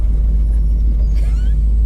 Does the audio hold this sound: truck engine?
yes